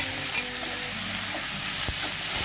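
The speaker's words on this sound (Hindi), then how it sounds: "दोनों को अच्छी तरह से सॉटे करना है हमें" Chopped capsicum and tomato sizzle steadily while being stirred in a hot pan, a continuous loud crackling hiss with a few scraping knocks of the spoon.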